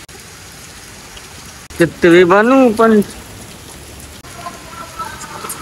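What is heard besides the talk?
rain falling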